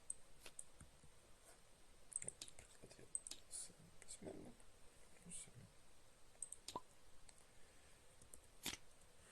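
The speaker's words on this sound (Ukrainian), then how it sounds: "бере колоду свого кольору, тасує її і бере собі на руку сім карт" A deck of cards for the board game Bestseller being shuffled by hand: quiet, scattered crisp clicks and soft flicks spread irregularly across the stretch, with no talking.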